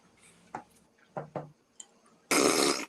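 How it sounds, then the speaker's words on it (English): A fart sound effect played from a Google Assistant smart speaker: a few short sputtering blips, then a louder, sustained noisy burst near the end, fairly close and with no talk over it. "Hey, Google, make a fart noise."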